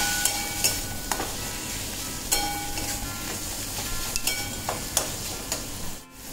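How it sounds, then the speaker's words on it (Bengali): Garlic and ginger paste stir-fried in a pan, with a continuous sizzle under a series of spatula scrapes and taps, close and fairly loud, then a brief dip near the end. "দিয়ে এটা ভালো করে একটু কষিয়ে নেড়ে নিতে হবে"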